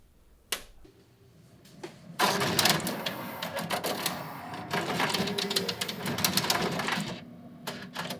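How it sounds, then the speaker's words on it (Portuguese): Several drives in a Nakamichi MJ-5.16 CD changer load their disc magazines, producing a busy clattering run of mechanical clicks, whirs and ratchets that starts with a few isolated knocks and then swells into dense overlapping activity, close and moderately loud. "Isso foi cada um desses drives montando seu magazine e carregando um disco."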